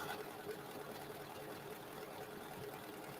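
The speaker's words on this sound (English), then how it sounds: "it's going to stitch that one, stitch my 2 little additional motifs" A sewing machine stitches embroidery motifs with a steady, fast mechanical whir and a continuous rhythmic chatter, moderately loud and unbroken throughout.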